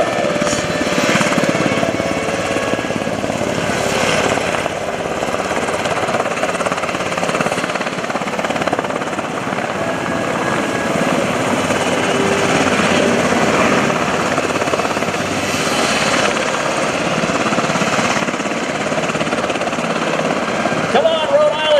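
A UH-60 Blackhawk helicopter flies a simulated troop insertion at a Rhode Island Air National Guard airshow, its loud steady rotor chop and turbine roar filling the air continuously, with crowd and announcer noise underneath.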